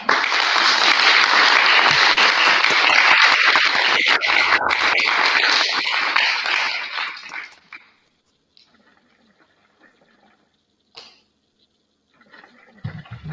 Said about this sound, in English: I don't know how you do that clapping thing.